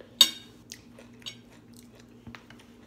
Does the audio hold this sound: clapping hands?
no